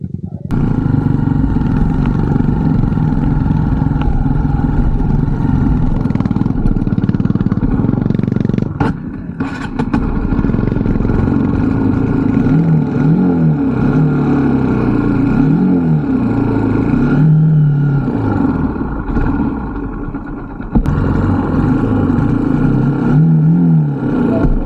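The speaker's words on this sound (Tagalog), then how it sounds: "Motor." A motorcycle engine on a mountain trail runs loud and close throughout, rising and falling in revs, with brief dips and occasional clatter, and voices talking over it at times.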